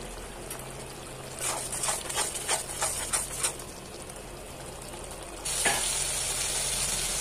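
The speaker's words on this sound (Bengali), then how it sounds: "এটাকে এখন সময় মতো ভালো করে কষায় নিতে হবে" Steady sizzling of a spice paste of chili and turmeric powder frying in hot oil, with bursts of crackling and stirring scrapes, then the sizzle grows louder and brighter near the end.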